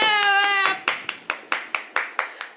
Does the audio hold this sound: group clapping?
yes